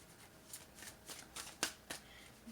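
Tarot cards being shuffled and drawn, a series of quiet crisp riffling flicks in an uneven rhythm, about half a dozen soft card snaps, faint and close.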